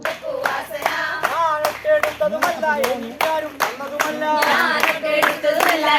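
A crowd of villagers claps in rhythmic bursts at the opening of a new village link road near a temple, built by a college NSS unit, with singing voices mixed in throughout.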